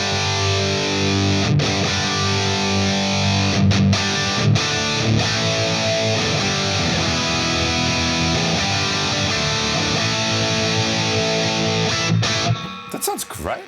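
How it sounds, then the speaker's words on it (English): Electric guitar played through a Neural DSP Quad Cortex with an ambience reverb effect, sustained chords ringing out with a spacious wash that fills the whole passage, loud and close, before cutting off abruptly at the end. "Is there reverb? Ooh, ambience. Let's try that."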